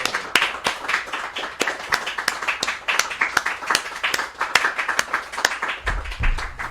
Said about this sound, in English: a great big applause for all the Argentinians that ate and who will eat gnocchis today